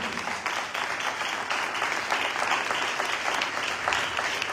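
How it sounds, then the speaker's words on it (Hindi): Sustained applause from a church congregation during a Sunday service, dense and steady clapping throughout at a moderate, even level. "आइए जोरदार तालियां बजाएंगे"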